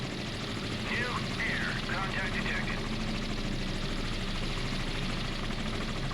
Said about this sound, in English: We just gotta kill this helicopter or have it get out of the way.